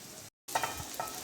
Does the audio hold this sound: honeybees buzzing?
no